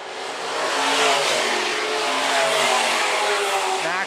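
Modified race cars battle on the dirt oval at Phillips County Raceway, several engines roaring loudly and steadily together as the cars hold position down the back straight, with no voices.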